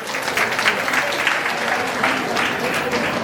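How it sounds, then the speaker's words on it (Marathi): Audience at a women's empowerment event applauding loudly, dense clapping that stays close and sustained through the whole stretch, with a voice faintly mixed in beneath it. "जोरदार टाळ्या."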